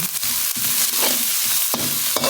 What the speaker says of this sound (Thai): อยากจะผัดพริกแห้งค่ะ